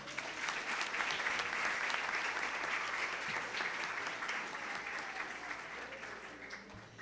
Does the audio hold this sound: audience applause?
yes